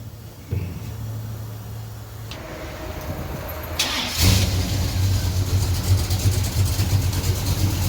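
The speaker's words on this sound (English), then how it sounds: "And this car is going to restart." A 1970 Pontiac LeMans with a 455 engine and troubled MSD ignition cranks and restarts after a brief idle, then settles into a loud, rough idle with blips of revving, close by.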